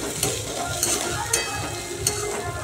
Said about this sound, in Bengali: একটু আলু ভাজা করছি